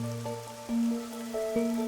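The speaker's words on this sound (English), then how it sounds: "the rain in our town hasn't stopped falling." Steady rain falling in a video game town, with a musical score of sustained tones and soft chimes layered over a constant hiss of rainfall.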